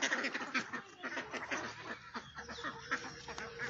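Ducks quack in a dense, overlapping chorus on a village duck farm, loud and close throughout with no talk over them.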